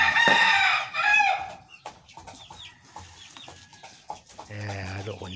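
Chickens cluck and a rooster crows loudly at the start while chicks are fed rice, then quieter clucks and chirps follow nearby, with a low steady hum beneath.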